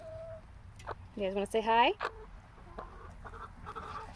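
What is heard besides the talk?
chickens clucking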